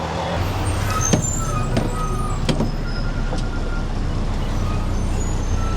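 Busy street traffic in Sri Lanka with a bus passing, a loud continuous engine rumble and road noise, punctuated by a few faint high beeps or squeaks.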